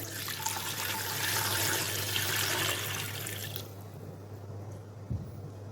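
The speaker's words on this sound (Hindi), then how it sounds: "एक लीटर हम इसमें पानी ऐड कर लेंगे।" About a litre of water pours into a pot or pressure cooker for mutton yakhni pulao, a close, steady splashing gush for around three and a half seconds, then stopping, leaving a low constant hum and a small knock.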